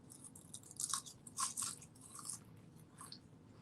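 Homemade kale chips, one batch with Thai salad dressing sprinkled on, crunched and chewed close up in a few sharp crisp bites, faint and otherwise quiet.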